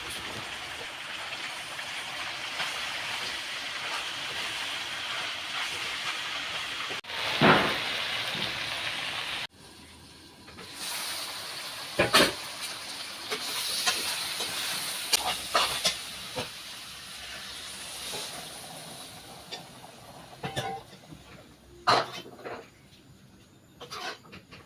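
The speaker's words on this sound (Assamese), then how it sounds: "গৰম পানী দি এতিয়া উতলিবলৈ দিয়া হৈছে।" Local chicken meat boils in hot water in a pot, giving a steady, fairly loud hiss and bubbling with scattered sharp clicks and pops, and no voices.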